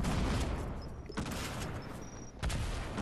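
A rapid burst of Fortnite gunfire crackles at a moderate distance, followed by another sharp volley near the end, all over a constant noisy background.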